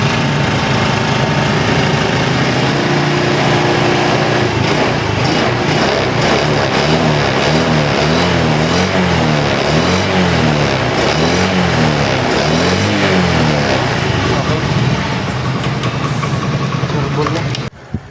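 A carbureted Honda Beat scooter engine, previously failing to start, runs steadily and loudly up close, with rhythmic revving pulses throughout and a voice talking faintly underneath.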